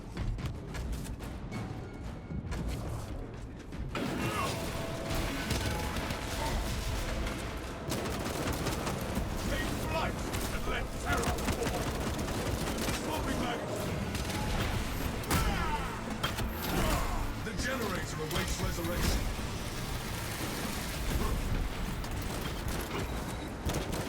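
Bolt pistol fire from a Warhammer 40,000 Space Marine video game, with dense, continuous bursts of gunfire and mechanical clatter throughout, loud and sustained with no pauses.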